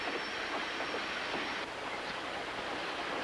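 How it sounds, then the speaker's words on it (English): A transcontinental passenger train runs along the main line to Montreal, a steady, loud rumble of rolling wagons and wheels on rails that continues through the whole stretch with no talk. "Now I joined the main line, the transcontinental train to Montreal that was part of the Canadian Railway legend."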